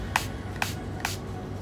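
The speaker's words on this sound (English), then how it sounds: "take my illuminating setting spray" A makeup setting spray bottle gives three short, crisp spritzes about half a second apart, close up against a low background hum.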